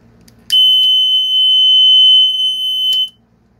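A loud, steady piezo buzzer in a flame-sensor fire alarm circuit built with a single relay, sounding a piercing continuous tone for about two and a half seconds before cutting off.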